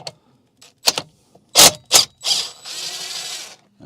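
Bolts being loosened and removed with hand tools on the steering column of a BMW E65 7 Series: a few sharp metallic ratchet clicks and rubs, then a longer scraping rattle, close and moderately loud with no talk.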